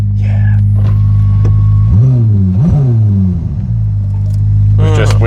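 A BMW M2 engine revs inside the cabin with two quick rising blips over a loud steady idle drone, with a voice speaking briefly near the end.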